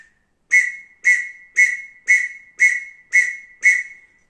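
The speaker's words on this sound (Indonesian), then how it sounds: "nanti akan ada suara peluit pendek-pendek" A scout-style signal whistle gives seven short, identical blasts in an even rhythm, each about half a second apart, close and loud with no other sound.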